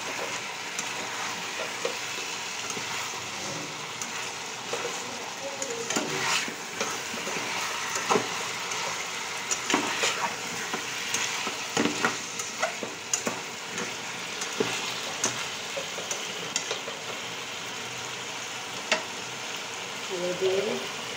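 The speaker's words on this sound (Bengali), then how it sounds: "ঢাকা খুলে কয়েক মিনিট পর পর নাড়াচাড়া করে কষিয়ে নেব" Potatoes and spices fry and sizzle steadily in a pan, with a constant hiss and intermittent scraping and clinking as they are stirred, close and moderately quiet, with no talking.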